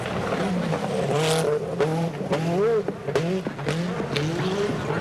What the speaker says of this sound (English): Bark of the engine and the flash from the turbo as he sets the car up just to go right, then left, and then right again.